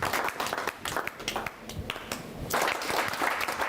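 An audience at a Hindi poetry recital claps steadily to welcome the poet Vineet Chauhan, a dense, continuous patter of many hands held at an even level throughout.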